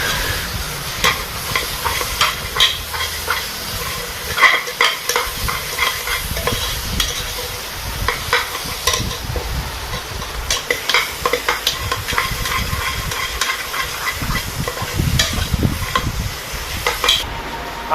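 Tadka spices fry in oil in a pan for paneer bhurji, with a constant sizzle under repeated scraping and clinking of a spoon stirring against the metal, close and busy with irregular stirring strokes throughout.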